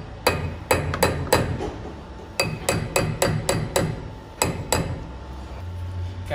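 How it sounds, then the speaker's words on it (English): Grease cap being worked off a boat trailer wheel hub: about a dozen sharp metallic taps, struck singly and in quick bunches with short pauses between, close and loud against a low background hum. "finally take the grease cap off, put that off"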